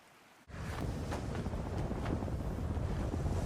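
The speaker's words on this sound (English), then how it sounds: "Pretty windy." Strong wind roars in a sandstorm scene from an anime, starting abruptly after a moment of quiet and then blowing as a loud, continuous rushing gust with no voices over it.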